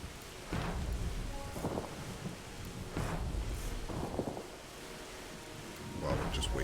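Thunderstorm in the video game Terra Nil: several deep rolling thunder bursts rise over a steady hiss of rain, fairly loud and evenly spaced through the stretch.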